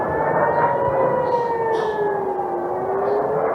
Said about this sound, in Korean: 오전에만 해도 사이렌이 울렸었어요.